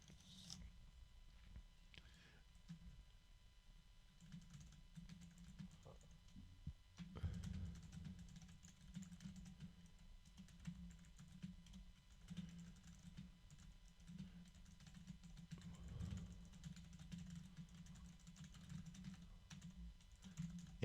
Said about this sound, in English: Let me just compare it to my keyboard, which is a Rosewill.